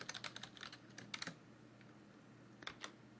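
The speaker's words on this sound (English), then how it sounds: "So I can type in my array name" Typing on a computer keyboard, two short bursts of light rapid key clicks close by separated by a pause, quiet and without talking.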